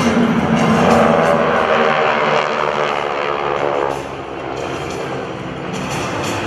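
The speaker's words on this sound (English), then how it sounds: "The GEICO Skytypers are pleased to demonstrate some of the unique flying capabilities of this vintage aircraft with you through a series of demonstrations and maneuvers." Vintage propeller aircraft of the GEICO Skytypers fly at a Rhode Island air show, producing a loud, sustained engine drone that swells and then eases slightly, with a voice speaking over a public address system.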